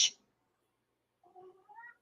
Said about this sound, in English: There goes my cat again. Loud mouth.